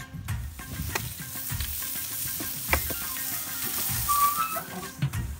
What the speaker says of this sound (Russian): Выкладываем наши стейки.